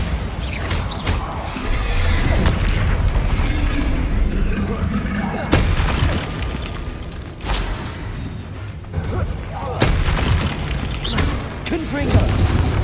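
Bombarda spell blasts in the Hogwarts Legacy game sound as repeated booming explosions over a rumbling backdrop of combat effects, several loud crashes spaced across the stretch, with a voice calling out spell names.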